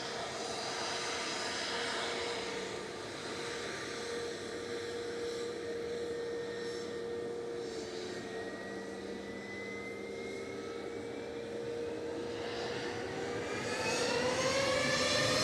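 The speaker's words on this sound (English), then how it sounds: "SAS is wasting no time. Flight 540 back to Copenhagen. This is A320 Neo" An SAS Airbus A320neo jet on Flight 540 to Copenhagen at Manchester Airport, its engines producing a steady roar with whining tones that slowly rise and shift in pitch, and the sound swells louder toward the end.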